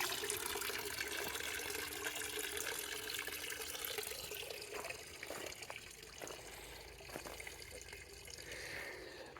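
Water runs continuously into an outdoor basin set out for cats, a faint, steady, hissing trickle and splash that holds evenly throughout with no voices.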